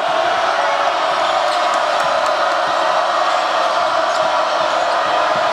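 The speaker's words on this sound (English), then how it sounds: "The crowd is going nuts." High school basketball crowd cheering loudly, a dense continuous roar of voices filling a gym, with occasional sharper shouts and ball bounces under the din.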